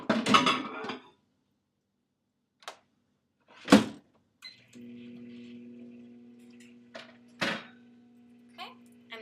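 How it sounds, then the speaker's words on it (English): A microwave oven heating butter in a measuring bowl gives a low steady hum for a few seconds after clinks of the bowl and door thumps, with brief talking at the start. "I'm going to stick my butter in my measuring bowl and then microwave it for not that long"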